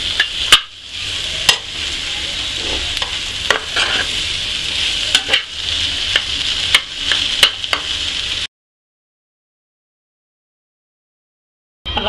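Bread roll filling roasting in a pan over a gas flame, with a continuous sizzle broken by repeated scraping and stirring knocks of a spatula, then falling silent near the end.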